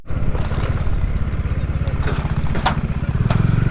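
A motorcycle rides across the top of a dam at Mukutmanipur, its engine putting out a steady, close, pulsing low throb that lasts the whole stretch, with brief wind or passing noises above it.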